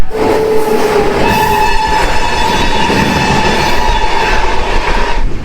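A passenger train from Howrah to New Jalpaiguri rumbles along loudly and steadily with rattling wheels, while a sustained horn tone sounds throughout, close by.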